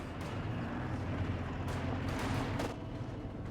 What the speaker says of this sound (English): Grenade off.